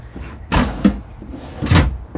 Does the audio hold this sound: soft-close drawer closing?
yes